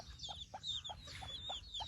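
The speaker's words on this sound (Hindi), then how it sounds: "ये मुर्गी है, ये तूफान की बेटी है।" An Aseel hen, daughter of a prized fighting rooster, clucks in a steady run of short, moderately close calls, about six evenly spaced, with faint higher bird chirps behind.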